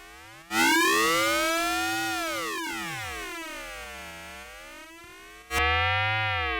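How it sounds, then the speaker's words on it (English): A Nord Micro Modular synthesizer plays a harsh, non-sine FM patch: two loud, buzzy struck tones that sweep and warble in pitch as they slowly decay, with no talking. "Let's see what happens if we switch the wave. You're going to get harder, harsher sounds."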